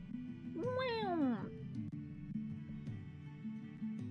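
A cat gives one clear, close, rising-then-falling meow over a steady hum of background music, followed by quieter ambience with no further calls.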